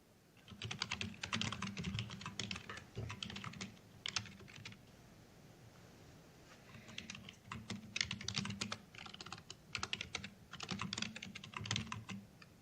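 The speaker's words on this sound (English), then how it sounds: "I'm typing this" Bursts of typing on a computer keyboard during a planning board meeting, quick clustered key clicks close by, pausing briefly midway before resuming, with no talking.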